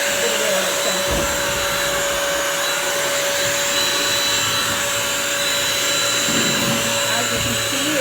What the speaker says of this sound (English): I am just using the water and vacuum at the same time.